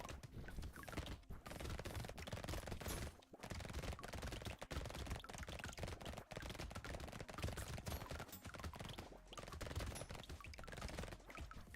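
SMG fire from the video game Brotato, a dense continuous rattle of rapid shots layered under hectic game effects, steady and loud with only brief gaps.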